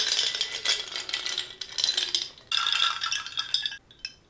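Ice cubes rattle and clink inside a glass of Peruvian bold cold brew coffee, a busy, close jangling that runs nearly continuously for about four seconds with a short lull midway, no voices over it.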